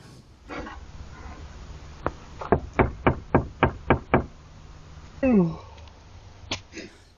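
Knocking on the door of a van at night, camping: a quick run of about seven sharp, evenly spaced knocks, loud and close, with a low hum and a voice briefly heard afterward.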